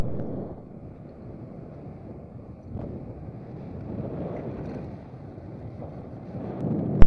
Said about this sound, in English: I had to start my motor here.